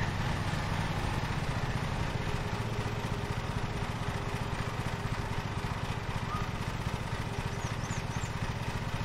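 Riding lawn mower engine idling in the Lawn Mowing Simulator video game on a rainy day, a steady, continuous low engine drone running throughout at moderate level with no talk over it.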